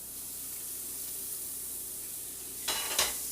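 About two tablespoons of butter hit a hot pan while cooking turkey tenderloin stuffing; a low, steady kitchen hum gives way to a short, bright sizzling burst near the end, with no talking.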